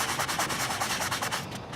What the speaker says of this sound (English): I'm going to get my sanding block down in that